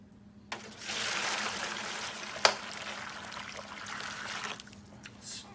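Hot water is poured steadily into a pot for dyeing plastic model parts for about four seconds, a continuous hissing splash, with a sharp clink partway through and no talking.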